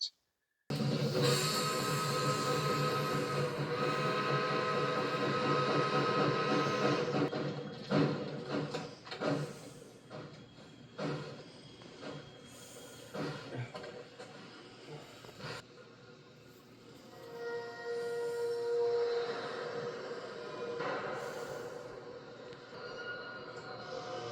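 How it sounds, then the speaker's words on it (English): A steam train from The Polar Express rolls up to a house, a loud continuous rumble of wheels and hissing steam with repeated clanks and squeals, easing off partway through before swelling again. "the first clip of the train rolling up to his house"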